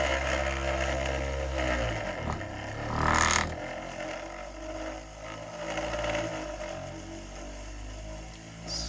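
A 3D-printed maglev motor with a 304 stainless steel backplate whirs continuously, spinning at a steady pitch with rattling and scraping tones, plus a brief louder swell partway through; no speech.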